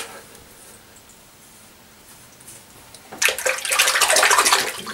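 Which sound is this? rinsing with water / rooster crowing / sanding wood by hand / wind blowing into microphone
rinsing with water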